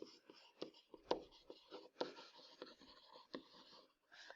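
Pen or marker writing in cursive on a board during a probability lesson: a steady run of soft scratchy strokes and taps, close and fairly quiet, with short pauses between letters and no talking.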